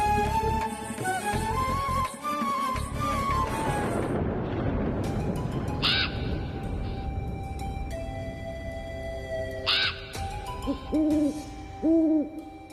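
An owl hoots in a Hindi mythological TV drama scene. A few low hoots come near the end, over loud dramatic music and a rumbling, swelling effect.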